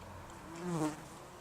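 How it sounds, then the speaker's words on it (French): A wasp buzzing outdoors in the morning, a soft steady drone that swells briefly as it passes close, then fades back, with no talking. "Les guêpes, moi, c'est pas mes ennemis."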